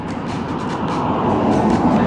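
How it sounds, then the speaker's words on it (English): A train rolls past lava fields near Amboy on Route 66 in the California desert, giving a steady, broadband rumble that swells slightly toward the end, heard from inside a vehicle with no talking. "And there's a train"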